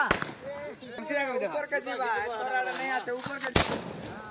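Two sharp Diwali firecracker bangs, one at the very start and one near the end, with excited voices talking between them.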